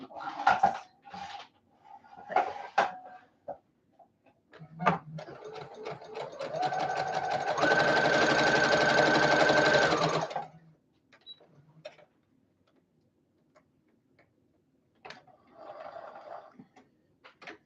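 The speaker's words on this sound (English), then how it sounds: "I am going to increase the stitch length to a basting stitch, so as long as it can possibly stitch." A sewing machine sews a long basting stitch along a seam of a bridesmaid gown, running in one close, steady whirring burst of a few seconds between scattered handling clicks and rustles.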